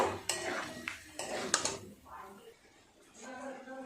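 Mutton is tipped into a large pressure cooker, with several sharp metal clanks and scrapes of pots and a spoon, close by; a voice talks briefly between the knocks.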